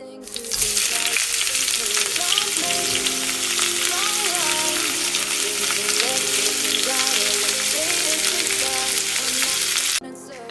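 Pieces of mandazi dough fry in hot oil, giving a loud, steady, dense sizzle that runs unbroken for about ten seconds before cutting off abruptly.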